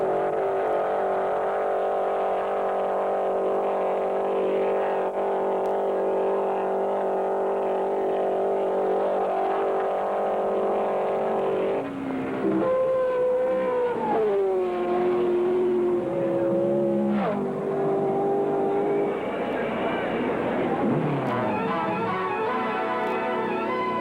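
A 1964 rear-engine race car on Indianapolis 500 qualifying laps, a loud sustained engine drone that later rises and falls in pitch as the car passes and revs, within old film audio.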